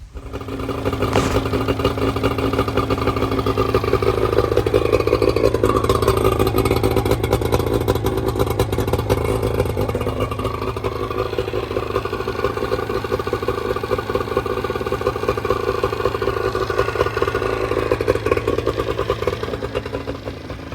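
Outboard engine on a 1990 Sea Nymph boat firing up for its first test run, idling steadily and close by with a few slight revs, running continuously with no talk.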